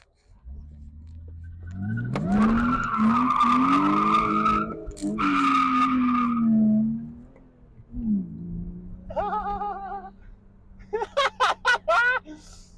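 Loud, drawn-out tire squeals from a BMW E36 skidding on BC Racing coilovers, two long screeches followed by shorter chirping squeals, with an engine droning underneath.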